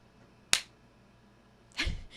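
Two sharp hand claps in a home studio room, a crisp close snap followed about 1.3 seconds later by a second louder clap with a brief room decay after each.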